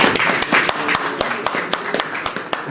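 Audience at a Paris press conference clapping, a loose scattered applause of many hands, moderately near, with speech mixed in underneath.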